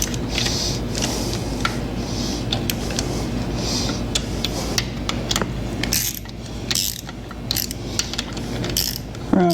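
A ratchet tightening bottom-end bolts on a GM 8.0 engine, rapid clicking pawl bursts in repeated strokes with metallic clinks, close and loud, pausing between pulls, with no speech.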